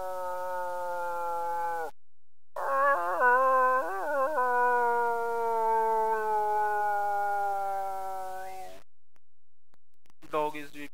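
A person mimics a dog howling and weeping, giving long wavering whines with a few sobbing wobbles, split by short silent gaps and another brief cry at the end.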